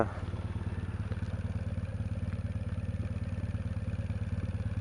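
A 2015 Triumph Bonneville T214 limited edition motorcycle idling just after starting, a steady, even engine pulse with a light mechanical clatter, close and continuous with no talk.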